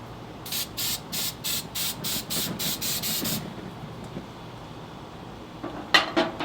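Eight or nine short bursts of cooking spray hiss in a quick regular rhythm onto a preheated grill, then quiet, followed by a couple of faint clinks of metal.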